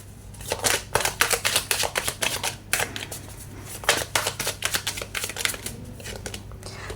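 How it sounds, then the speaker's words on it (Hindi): Tarot cards are shuffled in quick, crisp riffling bursts, a rapid rhythm of close, sharp flutters and snaps repeating over several seconds with brief pauses. "सबसे पहले हम कार्ड शफल कर लेते हैं"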